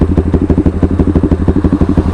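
A motorcycle with an open muffler runs close by in a steady, loud, rapid exhaust thump. The pulses come fast and even, like a throbbing idle.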